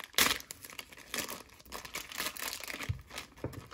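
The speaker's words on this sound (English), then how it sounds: "I'll just rip this open." Beyblade Fang Leone 130W2D retail packaging being ripped open by hand, giving loud crinkling and tearing bursts of plastic and cardboard in an uneven rhythm across several seconds, close up with no talking.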